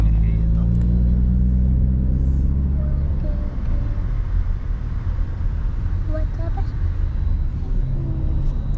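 Taxi moving through heavy traffic in Dubai, with a steady low engine and road rumble throughout, the drone of surrounding vehicles close by and people talking over it.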